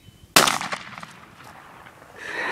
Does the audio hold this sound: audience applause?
no